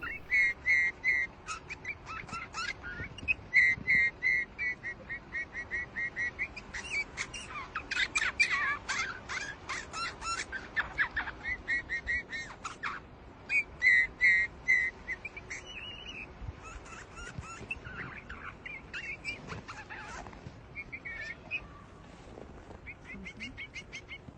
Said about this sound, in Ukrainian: Тепер пропоную послухати, як співають снігурі.